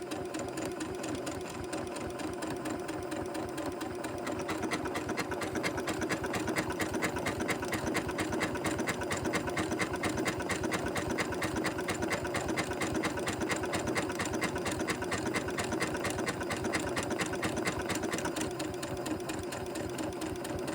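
A domestic sewing machine steadily stitches out a buttonhole on a shirt, producing a continuous, even, rapid mechanical whirring and clatter that holds at a constant pace for the whole stretch, close and unbroken by talk.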